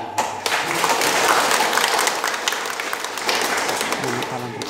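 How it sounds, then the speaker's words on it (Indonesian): A congregation applauds during a Catholic wedding mass blessing two couples, a broad sustained wash of clapping that swells and then tapers, with voices mixed in. "Untuk itu kita tepuk tangan."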